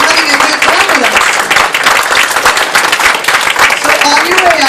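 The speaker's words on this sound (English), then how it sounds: "give yourself a round of applause" A convention crowd at a closing ceremony breaks into loud, sustained applause, dense clapping filling the room steadily without pause.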